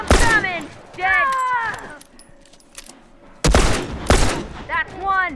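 Shotgun fire in a shooter video game, two loud, sharp blasts in quick succession among tense shouting voices and other game effects.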